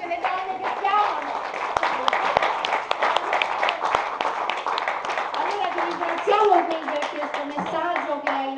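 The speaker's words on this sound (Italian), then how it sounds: "Applaudiamo, ce le donne che abbiamo!" An audience applauds at an awards ceremony in New York, a dense, sustained clapping that rolls on steadily, with voices and chatter mixed in under it.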